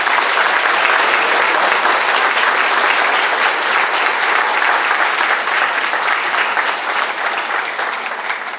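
Loud, sustained applause from a large audience for sixth-grade students at a school awards ceremony, dense and even for the whole stretch, tapering slightly at the end.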